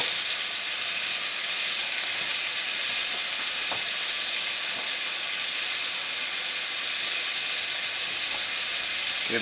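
Cube steak browns in a cast iron pan with a loud, steady, unbroken sizzle and a faint tick or two, close up and without talk.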